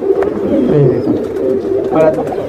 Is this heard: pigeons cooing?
yes